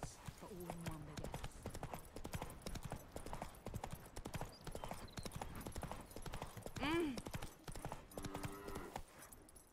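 Steady clip-clop of the horse Roach's hooves in The Witcher 3 Next Gen, a continuous trotting rhythm running the whole time beneath conversation between characters, with a brief whinny-like call partway through.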